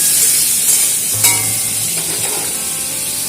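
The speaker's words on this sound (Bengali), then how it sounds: "কড়াইতে সরষের তেল গরম করে খোসা ছাড়ানো চিংড়ি মাছগুলোকে ভেজে নিচ্ছি" Peeled shrimp frying in hot mustard oil in a wok, a steady loud sizzle with occasional stirring scrapes and pops, no voices.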